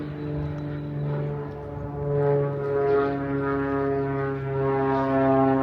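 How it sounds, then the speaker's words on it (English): A propeller airplane passes overhead near the island airport on Jekyll Island, a steady droning hum with strong, sustained tones that swells and fades gently throughout, fairly loud, with no talking. "Got a lot of planes coming back and forth overhead, because there's an airport on the island."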